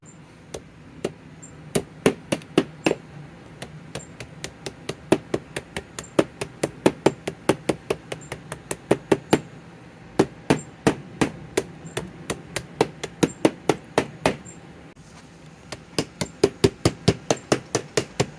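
Battery cells being tapped down into a 24 volt battery pack, a long run of sharp, loud hammer-like knocks at a quick, slightly uneven rhythm, close up with short pauses and no speech.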